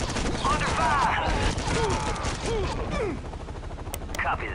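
Bursts of gunfire crackle through a Delta Force video game firefight, repeated shots over a noisy battle bed with game voices calling out across the first few seconds.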